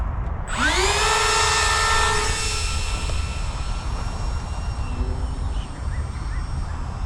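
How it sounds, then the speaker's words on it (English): A model RC Canberra Bomber plane's electric motor spools up sharply into a loud whining tone, then holds a steady high drone that slowly eases as the aircraft flies off, with no talking. "we're going to fly the Canberra Bomber now after those trim adjustments"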